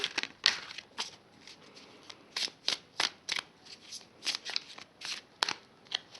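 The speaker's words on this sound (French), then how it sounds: "ce sont des cartes qui se mélangent relativement facilement" Tarot cards of a small cat-themed deck being shuffled by hand, a close run of crisp riffling bursts and papery swishes repeating in an irregular rhythm, loud and alone without voices.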